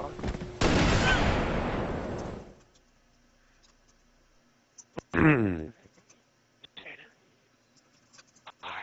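Gunfire in the shooter game Halo Reach, heard as a loud dense burst of shots for the first two seconds, then a sharp single crack and a short rattling burst after a pause.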